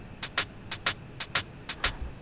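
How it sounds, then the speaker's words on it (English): A chopped hi-hat loop in an electronic beat: crisp, bright ticks falling in quick pairs, eight hits in a steady, even groove, close and clean with nothing else playing. "this little hi-hat loop that I chopped"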